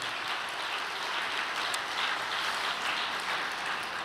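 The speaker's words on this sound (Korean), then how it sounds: "다시 한번 감사와 격려의 박수를 부탁드리겠습니다" An audience at a church testimony gathering applauds continuously, a steady, even wash of many hands clapping at moderate volume throughout, with no speech heard.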